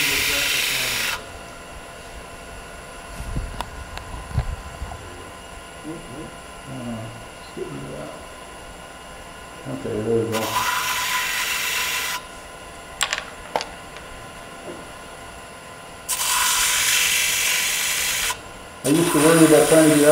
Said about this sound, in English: this is just a piece of plywood with a piece of sandpaper on it, and I usually run this around 600-800 RPM